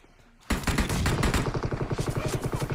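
Rapid gunfire from an M24 sniper rifle in a video game bursts in loud and close after a quiet start, a dense rattling string of repeated shots continuing to the end.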